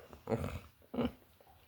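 A puppy lets out two short, rough growls about half a second apart, close by and fairly quiet, with no talking.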